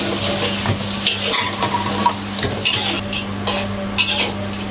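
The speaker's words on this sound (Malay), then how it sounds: "Okay, kita goreng ikan bilis ni sampai garing." Loud, steady sizzling of anchovies frying crisp in a pan, with occasional scrapes and clinks of a utensil against metal.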